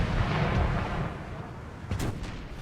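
Artillery fire from a Napoleonic battle in the strategy game Napoleon: Total War, a dense continuous low rumble of distant cannon volleys with a sharper nearer blast about two-thirds through.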